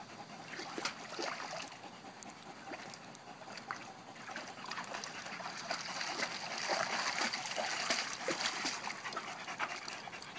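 Greyhounds panting close by amid splashing and trickling water as they cool off after a run, a steady wet outdoor scene with no talking.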